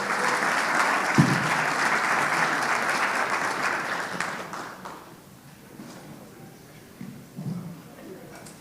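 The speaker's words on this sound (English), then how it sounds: "give him a round of applause" An audience at a Rotary anniversary celebration applauds for the mayor, a dense burst of clapping that fades after about five seconds, followed by faint room noise and a few low voices.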